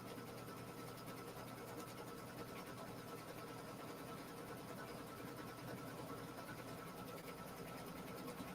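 Single-needle embroidery machine stitching an in-the-hoop placemat, a steady rapid mechanical whir and clatter running continuously and close throughout, with no talk.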